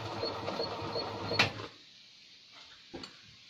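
The engine of an old Invacar, left abandoned in a field for 14 years, is cranked. It turns over with a faint whirring, chattering mechanical grind for under two seconds and then stops, followed by a couple of soft clicks in near silence.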